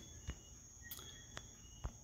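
Frogs croak outside at night in a faint, steady chorus, with a few soft taps and clicks rising above the low background.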